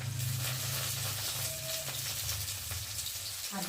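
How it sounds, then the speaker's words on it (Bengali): Onions and green chilies frying in hot oil, a steady broad sizzle and hiss that runs nonstop, with a faint clink near the end. "মশলাটা ভালো করে ভেজে নেব"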